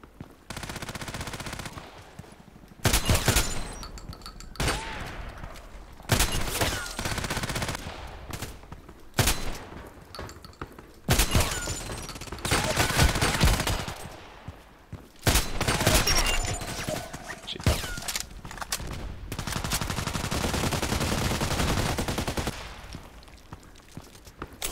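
Repeated shotgun blasts in a video game, loud separate bursts fired in irregular clusters with short quiet gaps between, close and sharp, plus a sustained noisy stretch near the end.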